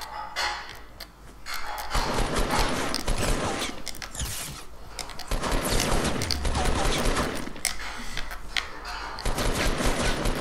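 Bursts of rapid gunfire in the Fortnite video game come in several loud volleys with brief pauses between them, blended with game sound effects and no talking.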